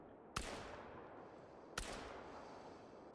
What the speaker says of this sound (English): It's a 100-yard shot with a shotgun.